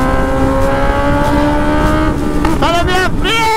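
A new Honda Hornet motorcycle engine drones steadily and loudly while being ridden, its pitch rising and shifting as the rider works through the gears near the end.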